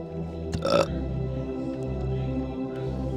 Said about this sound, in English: how many times do you burp in a day? Especially into your mic.